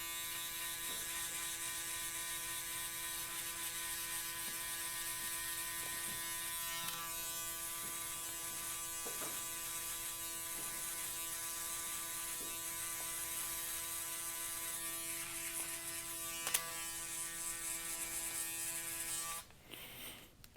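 An electric shaver buzzes steadily while trimming hair during a modern mullet haircut at a barber's, a close, continuous mechanical whine with small shifts as it moves, cutting off abruptly at the end.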